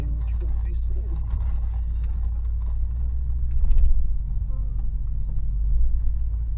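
A 1969 Pontiac Firebird's engine rumbles steadily from inside the car while driving, a low constant drone that swells slightly in places.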